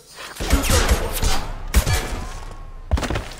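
Gunfire in the video game Mass Effect 2: loud bursts of shots come in quick clusters, then two sharper single blasts follow later, over a busy background of combat effects.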